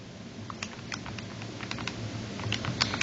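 Quick, light keystrokes as a number is typed on a computer keyboard, a steady patter of close, crisp clicks with no talking.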